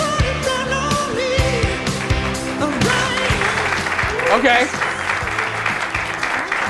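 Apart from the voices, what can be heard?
tepid audience applause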